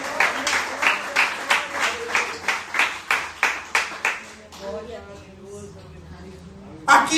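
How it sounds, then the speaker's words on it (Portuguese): A church congregation claps in a steady rhythmic beat for about five seconds, then the claps fade into a murmur of voices before a final burst of noise. "E se você crê, aplauda o Senhor com o seu melhor."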